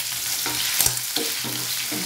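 Beef liver frying in a pan, seasoned with salt, with a steady close sizzle and a few clinks and scrapes of stirring throughout.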